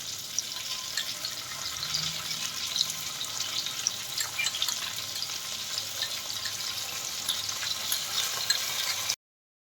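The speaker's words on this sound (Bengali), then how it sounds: "দেখুন এইগুলো দিয়ে একটু ভালো করে কষিয়ে নেওয়া হচ্ছে" Chicken stomach and liver sautéing with cumin and coriander paste, a steady close sizzle and hiss of frying with faint stirring, continuous and fairly loud throughout, no voices.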